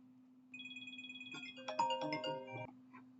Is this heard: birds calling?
no